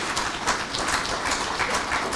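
A live audience at a conversation event applauds in a dense, sustained patter of many hands, steady and fairly close, with no talking over it.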